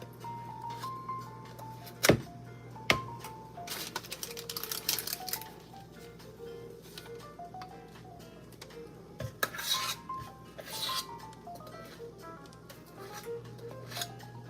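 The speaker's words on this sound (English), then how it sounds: "Scrape the sides of your bowl to get the chocolate chip cookie dough out of the pot." A rubber spatula scrapes browned butter chocolate chip cookie dough from the sides of a bowl and onto a baking sheet, giving soft scraping and a few sharp knocks and clinks, with a steady low hum underneath.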